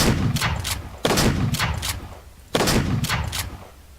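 Slug rounds fired from a gun in the Arma 3 OPTRE mod: two loud, sharp shots about one and a half seconds apart, each followed by a rolling echoing tail, close and alone.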